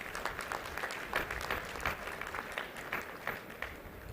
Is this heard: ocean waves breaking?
no